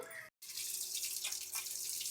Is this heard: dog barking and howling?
no